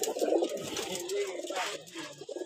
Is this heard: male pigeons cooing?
yes